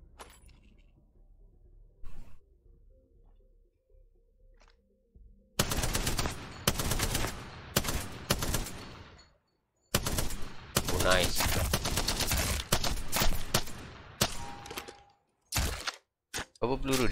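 Bursts of light machine gun fire in the video game Apex Legends during training, loud rapid volleys breaking out after a quiet start with short pauses between strings of shots, and some talk in the background.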